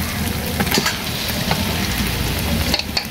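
Raw meat hits a hot pan of garlic and ginger already fried for five minutes, setting off a loud, continuous sizzle with stirring scrapes and clatter close by.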